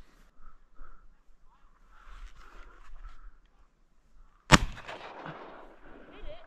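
A single loud shotgun blast rings out during a duck hunt at Summer Lake, Oregon, on an open marsh, sharp and close, with its report trailing off. Hunters talk quietly before it and keep talking after.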